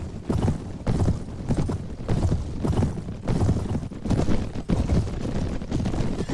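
Steady clip-clop of horse hooves in the video game Mount and Blade, at a trotting rhythm, close and fairly loud, repeating evenly with faint wind noise behind.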